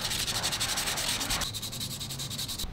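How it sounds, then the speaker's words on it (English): Continuous scratchy sanding on a plastic air intake lid from a Subaru WRX STI, roughing up the surface before paint; steady close rubbing strokes throughout with no speech. "Alright, so I've roughed the surface up now"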